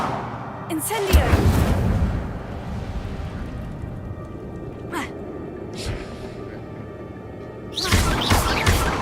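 Incendio fire spell bursting in the Hogwarts Legacy video game, a loud whooshing blast at the start and again near the end, with short crackling flares between over a dense, rumbling game ambience.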